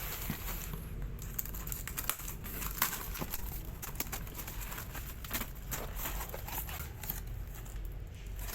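A universal motorcycle box is unboxed from a cardboard carton, giving steady close crinkling and rustling of packaging with scattered sharper crackles and no talking.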